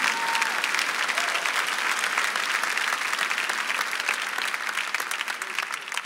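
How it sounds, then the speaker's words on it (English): Steady, dense applause from a live audience at a preacher's show, sustained throughout and tapering slightly at the end, with no voices over it. "Hey, come on and give me a clap."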